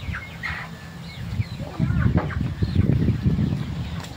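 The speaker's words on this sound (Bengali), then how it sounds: "এই আমার মুরগি ফার্ম" Several chickens cluck close by in a busy flock on a poultry farm, short clucks and squawks over a low rustling murmur.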